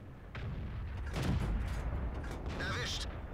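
Heavy tank cannon shots boom over a low rumbling engine in the video game World of Tanks, with a mechanical clank between the blasts.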